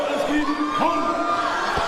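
A crowd of spectators at a 10K running race in Alton cheers and whoops, a lively mass of rising shouts heard from a moderate distance throughout.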